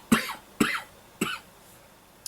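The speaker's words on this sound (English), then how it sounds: "About to cough." Three sharp close coughs at steady half-second intervals, each trailing off briefly, followed by a short fainter cough at the end in a quiet room.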